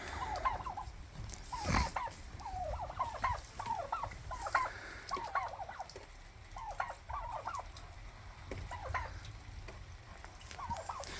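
A flock of turkeys gobbles on a farm, with repeated warbling calls overlapping at moderate distance across the whole stretch, over a steady background hum and an occasional louder thump.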